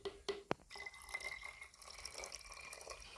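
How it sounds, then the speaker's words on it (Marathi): A homemade cockroach-repellent liquid is poured into a bottle, giving a soft close-up trickle and gurgle of filling after a couple of sharp clinks, quiet and with no talking. "हे सगळं त्या बॉटलमध्ये भरून घ्यायचं आहे पूर्ण"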